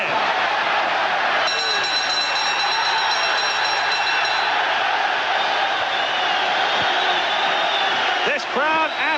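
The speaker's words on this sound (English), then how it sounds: "This crowd absolutely erupts." Boxing arena crowd erupting in a loud sustained roar of cheers at the end of the Barry McGuigan versus Eusebio Pedroza title fight, dense and continuous with a few sharp sounds near the end.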